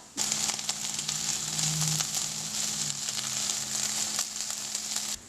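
Vegetables for homemade Chipotle bowls sizzle and crackle steadily in a hot pan, a close, even frying hiss with a low hum beneath and no talking.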